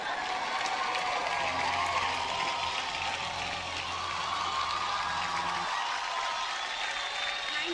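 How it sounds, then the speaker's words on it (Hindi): Audience applause fills a hall at the Filmfare award show, a steady, even wash of many hands clapping at moderate distance for several seconds, easing slightly before the end. "तालियां होनी चाहिए"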